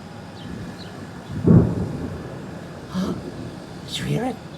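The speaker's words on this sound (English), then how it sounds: "I think there's thunderstorm coming to our neighborhood." Thunder rumbles from a thunderstorm approaching a neighborhood, a single deep roll swelling and fading, followed by fainter rumbles, with people talking over it.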